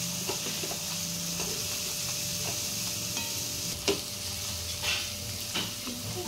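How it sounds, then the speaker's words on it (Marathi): Ginger garlic paste sautés in an onion base with a constant close sizzle, while a spoon stirs and scrapes the pan in occasional clicks and taps, with no voices. "अद्रक लसणाचा कच्चापणा आपल्याला घालवायचा आहे, तो देखील आपण परतवून घेऊया।"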